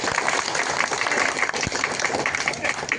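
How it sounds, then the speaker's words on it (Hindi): A crowd at an Indian political rally claps loudly in a dense, continuous burst for a few seconds, honoring Modi, with some faint voices mixed in. "हम लोग ऐसे मोदी जी का जोरदार ताली से अभिनंदन करते हैं"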